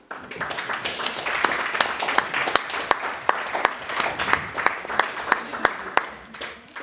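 Members of a municipal council meeting applaud in a room: dense, steady clapping from many hands fills the whole stretch, with a few louder individual claps standing out near the end.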